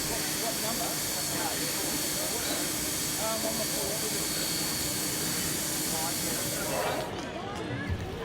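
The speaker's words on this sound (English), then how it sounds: "3237 is now shunting to the back of the train" Steam locomotive 3237 shunting at a station produces a loud, continuous hiss of escaping steam with faint mechanical rumble beneath, and the hiss cuts off abruptly near the end.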